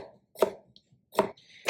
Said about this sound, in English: First step, I'm gonna chop the pickles.